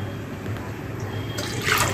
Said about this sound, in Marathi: यामध्ये पाणी घालत आहे.